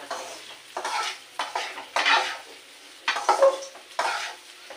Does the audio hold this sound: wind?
no